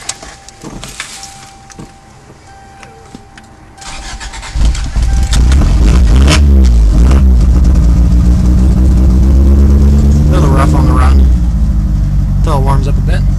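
A car engine is cranked and catches after a few seconds of quiet handling noises, then settles into a loud, steady idle with a low rumbling muffler tone close by.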